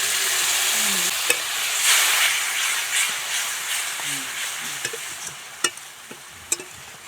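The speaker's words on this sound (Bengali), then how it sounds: "মশলাটা ভালো করে কষে নেব" A spice paste of ground coriander and cumin with a little water sizzles and hisses steadily in a pan while a spoon scrapes it now and then, giving occasional sharp clinks.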